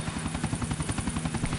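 Helicopter in GTA IV flying close by, a steady pulsing rotor chop with a low engine drone running without a break.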